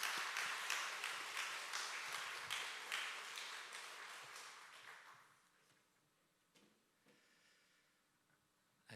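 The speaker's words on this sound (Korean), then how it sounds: "우리 홍 목사님 나올 때 박수로 축복하도록 하겠습니다" A church congregation applauds to welcome a pastor, the dense clapping strong at first, then fading away after about five seconds and leaving a quiet room with a few faint knocks.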